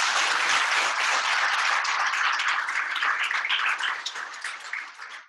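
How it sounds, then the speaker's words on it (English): A large round of applause fills the room after a talk on movement variability, dense steady clapping from many hands that holds strong and then tapers off near the end. "And so I got a big round of applause."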